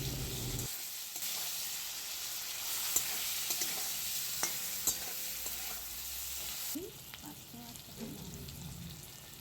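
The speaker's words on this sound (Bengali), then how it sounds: "আলুটাকেও হালকা একটু ভেজে নেওয়া হচ্ছে।" Boiled potato pieces fry lightly in oil for a koi fish curry, giving a continuous close sizzle over several seconds, broken by a few faint utensil clicks and a brief shift in tone near the end.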